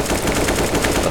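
Rapid automatic gunfire from the shooter game CS:GO, a dense, continuous burst of shots throughout with a steady, loud level and no pauses.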